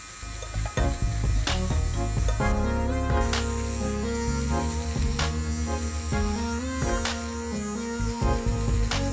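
An electric beard trimmer buzzes steadily while trimming the neckline, running close and constant with rhythmic scratchy strokes as it passes over stubble.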